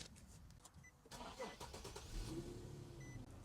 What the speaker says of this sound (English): what I'm gonna do now is I'm gonna start the car.